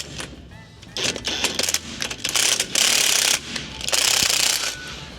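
A car's factory scissor jack with a nut welded onto it and a worn thread is cranked by hand, giving loud, close bursts of grinding, ratcheting metal clicks separated by short pauses.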